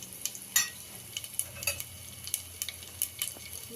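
Biryani spices and fennel powder fry in hot oil for vegetable biryani, a soft crackling sizzle broken by light scraping stirs and small clinks, close and fairly quiet.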